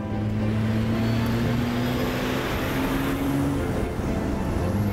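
A 1962 AC Bristol sports car's Bristol engine hums steadily with a rising tonal whine, close and fairly loud, with road noise and no voices.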